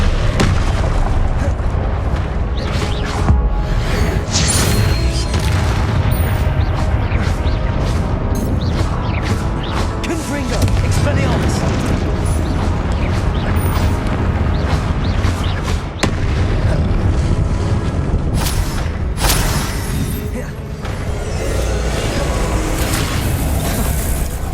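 Confringo blasting spells from the Hogwarts Legacy video game erupt in a dense, continuous barrage of booming explosions and bursts, loud and near, layered over heavy low rumble and bright crackles for the whole stretch, with no voices.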